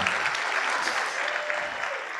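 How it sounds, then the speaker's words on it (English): An audience at an institute interview event bursts into applause, loud, continuous clapping from a packed room that stays strong and even throughout. "Give a round of applause, man."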